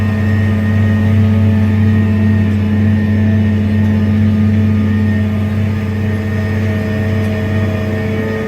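A tractor with a 400-plus horsepower engine pulling an 11-foot field cultivator across a field, steady loud engine drone with a deep constant hum throughout, no talk.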